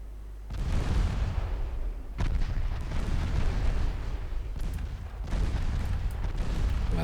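Naval gunfire booms in the Ultimate Admiral Dreadnoughts warship battle game, heavy, rumbling blasts arriving in several loud bursts over a continuous low roar, with no talking.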